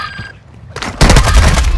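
Video game gunfire from Call of Duty Modern Warfare II erupts loudly after a quieter opening, with dense overlapping shots and booms filling the second half of the clip.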